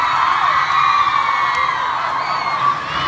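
A concert crowd at a live show cheers and shouts with whoops, a steady loud roar held throughout, with little distinct clapping.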